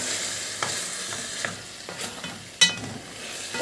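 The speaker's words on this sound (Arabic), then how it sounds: "نبدا بقى نحط الثوم ونقلب." Garlic is stirred and fried in a hot pan for a chicken pasta casserole, giving a soft continuous sizzle broken by light scrapes and one sharp clink of the utensil against the pan, close and alone.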